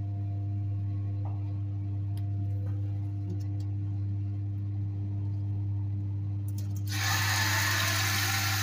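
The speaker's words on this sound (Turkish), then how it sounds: "Suyu da azıcık bir şey açıyor. Şarır şarır akıyor." Water from a kitchen tap gushes into a sink as garlic cloves are rinsed for village-style meatball stew, the rush of the stream starting abruptly near the end over a steady low hum.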